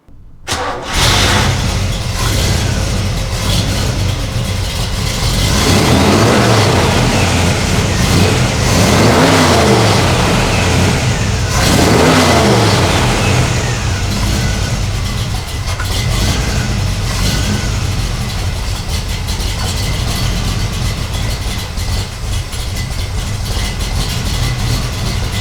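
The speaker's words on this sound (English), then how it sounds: "What we're going to do is give you a startup" A 1969 Pontiac Acadian SS starts up loud and close, then settles into a rough idle broken by several rising and falling revs, running steadily with no talking.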